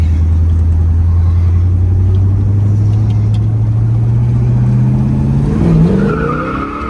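A 1967 Pontiac GTO's loud, rumbling engine revs and pulls away, its pitch climbing steadily as it accelerates, heard close and continuous.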